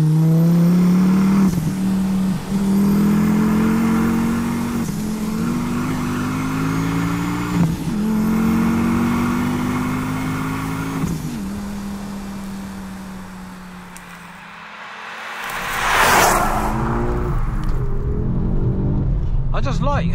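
A stage 2 Mk2 Ford Focus ST revs hard on the road toward 7,000 RPM, engine pitch climbing repeatedly through several gears, then easing off before another loud surge.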